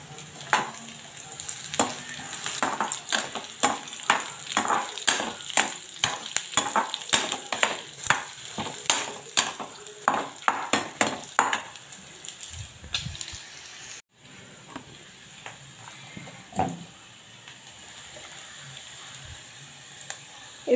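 Onion and carrot sizzle in a hot pan while a utensil scrapes and stirs in quick repeated strokes, then the stirring stops and a quieter sizzle continues.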